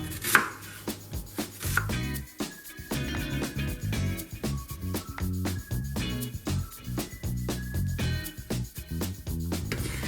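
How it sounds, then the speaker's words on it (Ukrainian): Rapid knife chopping on a cutting board, a steady run of quick close taps as an onion is diced, with no talking. "Тепер нарізаємо одну цибулину невеликими кубиками."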